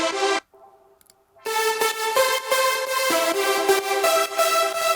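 A synth from a Splice preset pack with delay and reverb, bright sustained chords that cut off, leave a faint echoing tail for a second, then return as a dense, pulsing full-pack layer.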